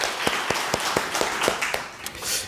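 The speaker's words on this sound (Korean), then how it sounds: "다시 한번 박수 주세요." Congregation clapping during a Sunday church service, a short burst of scattered, distinct hand claps with a loose rhythm, fairly close and moderately loud.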